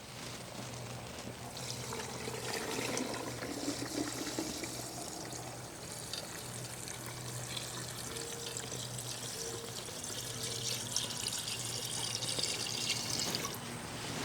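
Salt water pours steadily into a container for fermented pickles with a soft, continuous trickling splash and a faint hum beneath, quiet and close, no voices.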